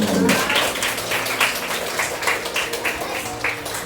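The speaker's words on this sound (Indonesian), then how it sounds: "Tepuk tangan bagi Bapak." An audience at a talk claps in a brief, somewhat uneven round of applause, with fairly distinct individual claps and some voices mixed in.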